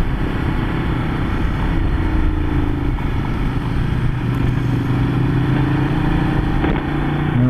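A 2015 Ducati Multistrada 1200 S motorcycle underway: a loud, steady engine drone with rumbling low tones and wind noise, holding a fairly even pitch throughout with no talking.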